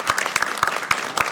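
A brief burst of audience applause at a city council meeting: a handful of distinct, fairly close hand claps in an uneven rhythm over a soft crowd wash.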